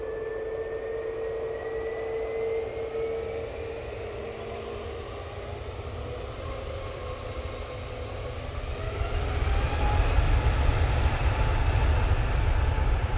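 easyJet airliner in revised livery moving on the runway at Manchester Airport, a steady jet engine roar with a tonal whine that swells louder toward the end, heard alone.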